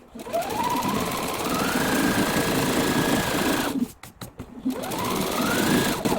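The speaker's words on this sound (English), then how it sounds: "we want to be careful here that the seam underneath isn't going to flip while I'm sewing" Sewing machine stitching a half-square triangle quilting seam, a steady close whirring run that stops briefly, followed by a few clicks, then starts again, with no talk.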